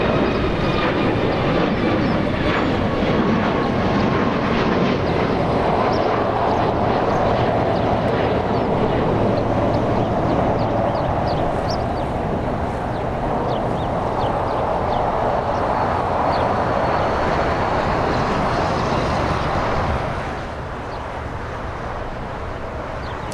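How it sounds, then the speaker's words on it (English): An Alaska Airlines jet departs Los Angeles International Airport bound for Portland, its engines a loud, continuous roar with a rising whine running over it, easing off slightly near the end. "Alaska now, Alaska Airlines flying to Portland."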